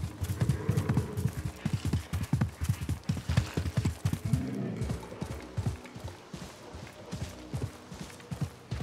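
A horse gallops in Assassin's Creed Mirage, its hooves clopping in a steady rapid rhythm close by throughout, with creaking tack and light game ambience underneath.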